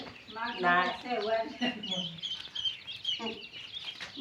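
Chickens clucking close by, with high peeping from tethered chicks and ducklings throughout and some voices mixed in.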